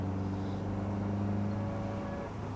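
A Caterham sports car with a newly reinstalled differential drives with its engine humming and revving steadily, the tone shifting slightly as it pulls, close and continuous.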